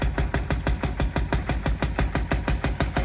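Old railway locomotive diesel engine at a railway museum starting up and puffing a little oil smoke, a steady loud chugging knock at about five beats per second, close by, with no talk.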